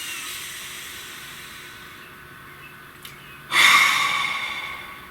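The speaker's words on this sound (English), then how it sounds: "Nice deep breath" A single deep breath, a faint slow inhale followed by a louder, breathy exhale that fades out, close to the microphone with no talk.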